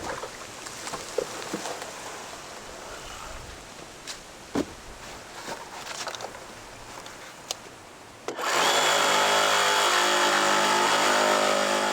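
A power tool starts up after quiet handling and clunks and cuts into 24-inch plastic culvert pipe, a loud, steady high-pitched whine that holds to the end.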